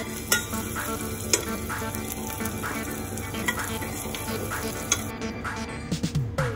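Potatoes shallow-fry in oil for dum aloo with a steady close sizzle and crackle. Occasional sharp ticks and stirring clinks sound over it, with no voice present.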